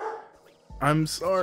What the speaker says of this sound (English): You get no sympathy from me for barking dogs.